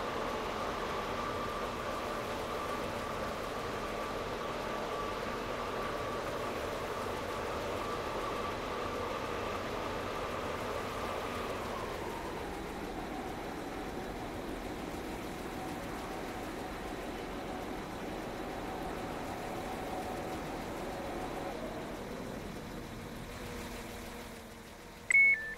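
A train slows to a stop at Newry Harbour station, its low engine hum and rolling noise fading gradually over many seconds into a quiet idle, ending with a short mechanical clunk.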